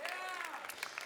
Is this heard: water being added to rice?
no